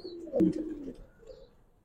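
Domestic pigeons of old Giribaz breeds, silver, sabchila and army colour types, give a single close, soft throaty coo with a short rolling burst, then quieter trailing murmurs, with no talking.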